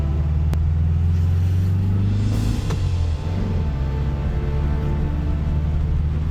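Air-cooled engine of a 1967 Volkswagen Beetle barn find, running on its first drive in 46 years, gives a steady loud low rumble and drone throughout, with a brief rise in revs midway.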